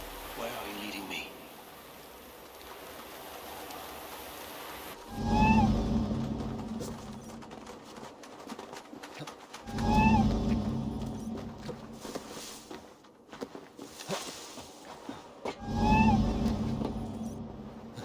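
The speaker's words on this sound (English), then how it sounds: "Who put you up here, little cat?" A little cat in the video game Assassin's Creed Valhalla meows three times at regular intervals of about five seconds, each call rising over a quieter ambient game background with swelling low rumbles.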